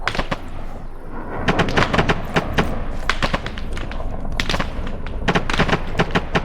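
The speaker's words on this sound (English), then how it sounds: "Who's shooting?" Gunfire in a military video game during a night operation, with repeated sharp shots in irregular bursts and scattered single cracks, some close and loud, others more distant, with no talking.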